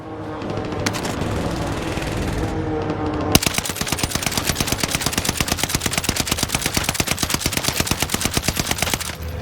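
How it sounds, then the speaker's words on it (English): An NZ-41 rifle fires in a video game, first in a dense, muffled burst, then in a long, fast, evenly spaced stream of sharp, loud shots. "bullets."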